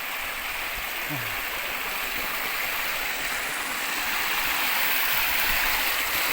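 A waterfall and mountain stream pour over a broad, flat rock bed. The rushing water makes a steady, broadband hiss that goes on without a break and gets slightly louder toward the end.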